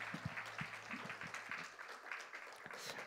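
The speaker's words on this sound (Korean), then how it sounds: "우리 그 주님께 영광의 박수로 영광을 올려드리십시다" Church congregation clapping in praise during a Sunday afternoon service, a faint, continuous patter of many hands with some louder individual claps and low murmur underneath.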